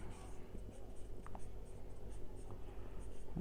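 A pen scratches softly across paper while someone writes the date in the first column of a hand-drawn accounting journal table. The strokes are close and quiet over a low background hum.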